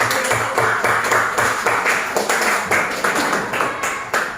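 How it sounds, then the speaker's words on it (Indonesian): A classroom group claps in unison for classmates after their presentation, a steady rhythmic pattern of loud, evenly spaced claps carried on without talk. "kita tepuk tangan untuk kelompok 1 yang telah mempresentasikan"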